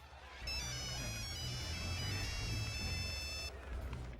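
A telephone ringtone in a film scene chimes steadily as a bright, repeating electronic melody for about three seconds, heard fairly close over a low rumble of background noise.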